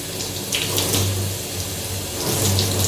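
Tap water runs steadily and loudly, close by, while hair is being washed over a sink or tub, with faint splashes and shifts in the flow.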